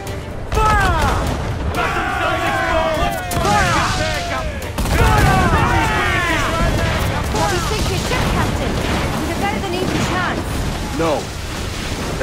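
Naval cannon broadside fire in the pirate-era game Assassin's Creed IV Black Flag, with booming shots and rumbling blasts mixed under loud, overlapping shouted voices throughout.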